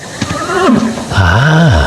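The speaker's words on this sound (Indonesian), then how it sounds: "kemudian mereka melihat seekor kuda nganggur" A horse neighs loudly and close by, a single drawn-out whinny that rises and falls over about two seconds, with no talk over it.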